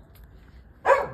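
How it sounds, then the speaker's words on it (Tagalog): A single dog bark rings out near the end, loud and sharp after a quiet outdoor stretch at a garden planting spot. "Ang ingay ng aso."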